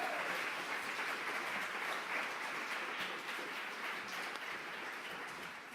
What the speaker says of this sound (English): let's get one big round of applause for every single person who's here tonight